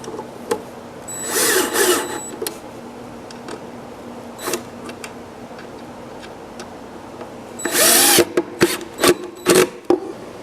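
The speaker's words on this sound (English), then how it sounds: "so I'm drilling into that oak, and then I'm holding each drawer front on with 4 screws" A power drill drives screws into an oak drawer front on a stackable toolbox, with two loud whirring bursts separated by quiet workshop noise and then several short, quick pulses of drilling near the end.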